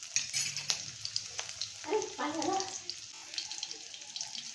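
Crushed garlic cloves sizzle in a tablespoon of hot oil for a fenugreek vegetable dish. The frying hiss stays steady and soft, with light stirring and clinks of a spoon against the pan.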